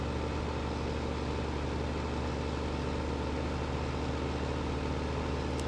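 A tractor engine in the Farming Simulator 15 video game runs at a steady, droning idle, a constant low hum with no variation and no voices.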